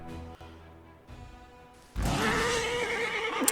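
A horse neighs in the fantasy role-playing game Pathfinder: Wrath of the Righteous: a fairly close whinny starts over quieter game ambience, then a louder, noisier burst of sound that holds steady to the end.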